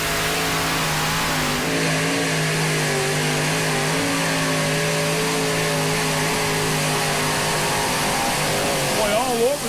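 A super modified tractor with a pinch head engine revs hard and steadily through a tractor pull in Henry, Illinois, its loud harmonic roar sustained the whole time beneath an announcer's commentary.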